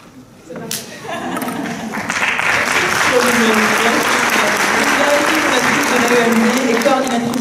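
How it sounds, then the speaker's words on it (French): Audience at a communication event bursting into applause, a sharp start swelling into loud, sustained clapping from a large crowd while a voice speaks over it. "je vais vous demander un tonnerre d'applaudissements, un tonnerre d'applaudissements"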